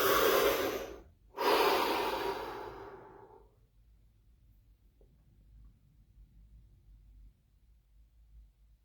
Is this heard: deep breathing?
yes